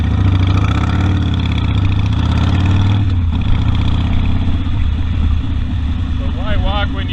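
A Harley-Davidson Sportster motorcycle engine idles steadily and loudly close by, a low continuous rumble that dips briefly midway.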